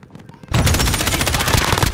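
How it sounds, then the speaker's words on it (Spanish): Video game gunfire bursts in after half a second of quiet, a loud rapid automatic stream of close shots that runs to the end. "¡están disparando!"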